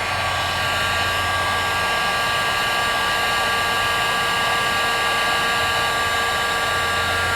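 A heat gun warming a downspout blows a loud, constant, steady whoosh of hot air with a high electric whine, unbroken and close throughout.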